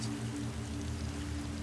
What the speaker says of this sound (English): Screw the fucking rain.